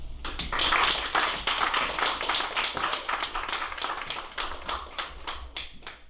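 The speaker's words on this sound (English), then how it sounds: "please give my actors a round of applause" Applause from a theatre audience at a 2018 stage performance, dense crowd clapping held steady and fairly loud for about six seconds, thinning slightly toward the end, with no voices over it.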